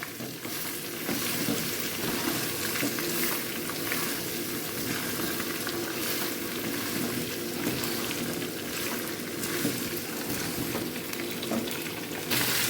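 Green mango pieces, cut with the skin on, frying in a pan for a sour-spicy raw mango pickle, giving a steady, close, loud sizzle with stirring scrapes throughout and no talking.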